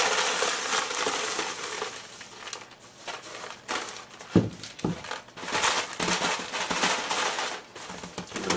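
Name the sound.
muesli tipped into a 2 litre ice cream container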